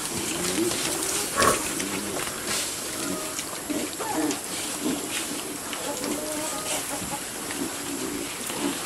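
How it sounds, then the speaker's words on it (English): Pigs grunt repeatedly at close range in a pen amid a busy barnyard background of clucking and shuffling, with some voices mixed in. "We're getting some pretty big pigs in here."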